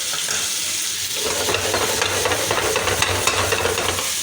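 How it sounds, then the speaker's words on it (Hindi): Onions frying in a pan for Lahori nihari, a dense close sizzle and crackle with stirring scrapes, growing busier after the first second and continuing without talk. "मैं इस प्याज को जल्दी जल्दी से फ्राई कर लेती हूँ"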